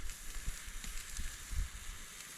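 Steaks seasoned with garlic powder sizzle faintly on a grill, a soft continuous crackle with scattered small pops.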